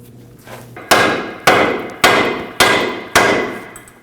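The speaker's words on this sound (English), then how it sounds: "We're going to strike the control arm with a hammer" Five sharp metallic hammer blows on the thin front control arm of a 1993-2001 Subaru Impreza, evenly spaced about half a second apart, each ringing briefly before the next strike.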